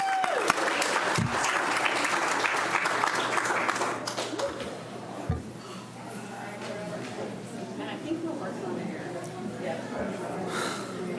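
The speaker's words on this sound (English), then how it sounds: "Big round of applause again" Applause for school principals at a city commission meeting, a room of people clapping for several seconds, then thinning out to scattered claps, voices and murmuring.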